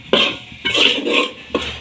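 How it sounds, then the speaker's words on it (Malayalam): Utensil scraping and clinking against a pan as pathal flour is stirred while it roasts, three distinct bursts of metallic scraping with short pauses between, close and moderately loud, no voices. "അപ്പം പത്തലിൻ്റെ പൊടി വറുക്കാൻ വേണ്ടി തുടങ്ങിയിട്ടുണ്ട്"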